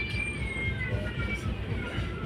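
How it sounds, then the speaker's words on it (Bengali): A train rumbles past beneath a road bridge in Nepal, a steady low roar with a faint high metallic whine running through it, heard nearby and continuous for the whole stretch. "ব্রিজের তল দিয়ে ট্রেন কাটেছি"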